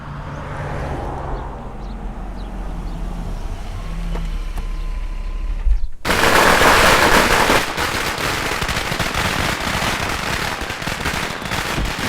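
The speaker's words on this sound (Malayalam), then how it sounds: "ഏത് ഭ്രാന്തരാണ് ഇവിടെ പടക്കം പൊട്ടിക്കുന്നത്?" A rapid, loud crackle of firecrackers suddenly bursts out at a wedding, a dense barrage that continues nonstop after a quieter stretch with distant traffic hum.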